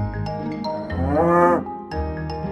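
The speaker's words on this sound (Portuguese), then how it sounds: "É uma vaca." One long, low cow moo swells and fades over light music, close and clear, with no voices.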